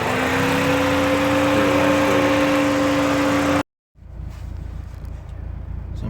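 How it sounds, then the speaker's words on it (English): A 2003 Ford Focus SVT engine idles at a stoplight, a steady continuous hum with faint whine, then a brief silent cut and quieter, rougher idle noise afterward. "I was just idling"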